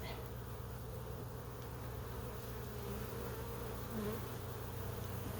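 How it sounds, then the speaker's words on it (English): A dense, steady buzz of many honey bees swarming close around their hive, continuous and even throughout with a low droning hum underneath. "Now we got a lot of bees flying."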